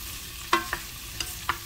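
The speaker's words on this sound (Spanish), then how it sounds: "Agregamos el jitomate y por último la berenjena. Y mezclamos." Tomato and eggplant stirred in a frying pan, a soft low sizzle with four distinct spoon knocks and scrapes against the pan, nearby and fairly quiet.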